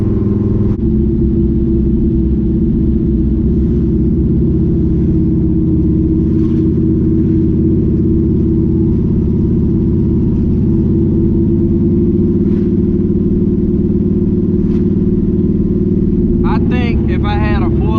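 A car engine drones steadily while cruising in second gear at about 45 mph, a loud low rumble with constant pitch filling the cabin, without full exhaust, and a brief higher tonal chirp near the end.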